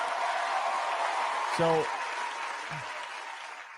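Audience applause at a school safety town hall, a steady wash of clapping throughout with a brief spoken word and a short voiced sound partway through.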